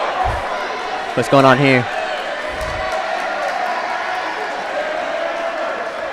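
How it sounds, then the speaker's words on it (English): Both crowds at a high school basketball game between LD Bell and Lewisville roar in a sustained, distant wash of noise, with a voice speaking briefly over it. "a lot of noise from what appears to be both crowds"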